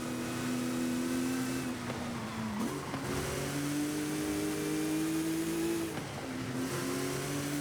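A modernised legendary race car in Forza Horizon 5 drives along with its engine droning steadily up close, the pitch rising through the gears, dipping at each shift and climbing again, with no talk over it.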